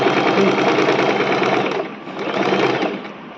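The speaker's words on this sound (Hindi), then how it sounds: "इसको इसके ऊपर मोड़ते हुए हमें इस पर दोबारा सिलाई लगा लेनी है।" A sewing machine stitches the shoulder seam of a ladies' kameez, running steadily and loudly up close with a brief slowdown partway through.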